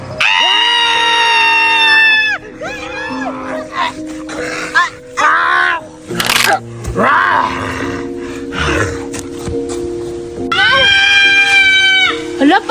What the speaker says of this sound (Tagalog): bakit parang may sumisigaw?